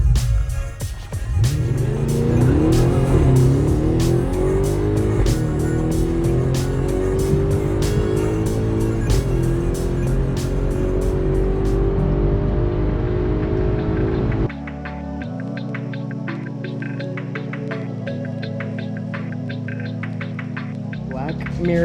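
A boosted Audi S6 accelerates hard in a long, loud run, its engine pitch climbing steadily through the gears, then a lower steady drone with a sharp change partway through. Speech-like sounds mix in.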